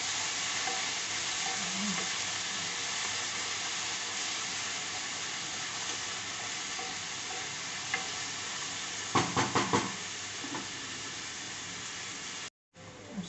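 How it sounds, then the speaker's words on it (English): Chopped tomatoes, onions and green chilies cook slowly in a pan, giving a soft, continuous sizzle with a few brief clatters of stirring near the end before a short cut-out. "we will add this chopped tomatoes and some green chilies into this, and we will slowly cook this"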